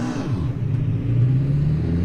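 A race car engine in the Assetto Corsa racing game played in VR gives a loud, steady rising drone, holding one continuous revving pitch for a couple of seconds.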